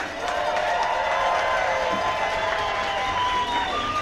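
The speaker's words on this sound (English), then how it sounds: "let's give a big round of applause to both teams for what's sure to be an exciting contest. Make some noise!" A crowd at an ice hockey game between the Santa Rosa Growlers and the NYPD Hockey Club cheers and whistles in a continuous roar, with applause mixed into the sustained noise.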